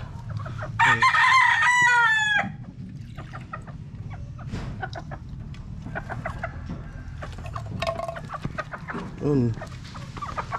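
Albanese sweater pullets cluck and a rooster crows loudly near the start, followed by scattered clucks and chatter from the flock in a farmyard.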